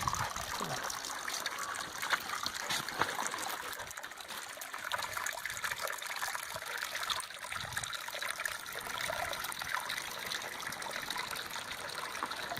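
Spring water flowing steadily at Pipe Spring fort in Arizona, a continuous close trickle and gurgle running beneath the building, alone and unbroken.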